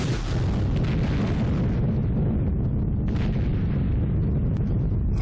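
Bomb blasts in B-17 The Mighty 8th, a loud continuous rumbling roar of explosions with a couple of sharper bursts, low and heavy and unbroken throughout.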